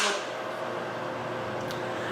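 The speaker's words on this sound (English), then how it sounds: "That noise is my microwave because I'm about to eat something midway." A steady, low electrical hum with a faint whirring drone from a running microwave oven, even throughout.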